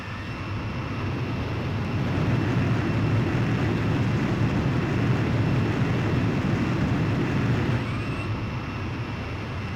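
A jet aircraft drones steadily on carrier landing approach in the Ace Combat 5 video game, a loud, constant engine roar that holds level throughout with no talking.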